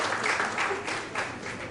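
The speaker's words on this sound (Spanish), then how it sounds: "También pido un aplauso para el doctor" Sustained applause from an audience at an academic forum on innovation and economic development, a dense steady clatter of clapping hands lasting throughout, with no voices over it.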